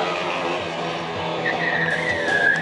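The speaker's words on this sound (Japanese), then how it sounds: "足もつかずに方向転換ドリフトで方向転換だ" A KTM 125 Duke motorcycle drifts through a tight turn, its engine droning close by while the tire squeals and skids, rising into a sharper screech toward the end.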